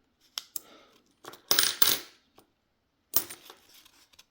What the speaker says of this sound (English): We're back watching some coins.